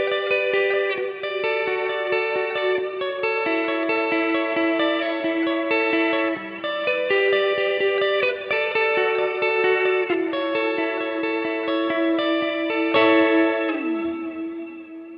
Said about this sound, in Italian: solo sulla coda del reverbero aggiunge una modulazione